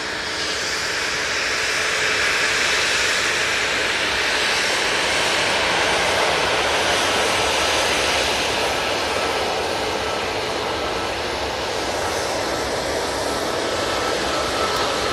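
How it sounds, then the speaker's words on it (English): A Jet2 Boeing 737-800 without winglets departs Manchester Airport for Tenerife, making a loud, steady broadband jet engine roar that holds through the whole stretch with no voices. "we have this 737-800 going off to Tenerife"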